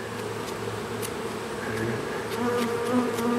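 Honeybees are brushed off in front of a hive, filling the air with a dense, steady, close buzzing hum that swells slightly louder toward the end, with no talking.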